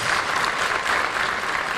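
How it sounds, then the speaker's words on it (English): Audience at a University of Zimbabwe research and innovation week event gives the panelists a steady, dense round of applause, continuous clapping throughout. "Another round of applause for our panelists,"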